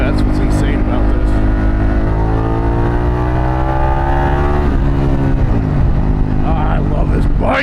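Harley-Davidson Pan America motorcycle fitted with a Vance exhaust, ridden on a paved road, giving a loud, steady engine drone with rising pitch as it accelerates, with a voice speaking over it.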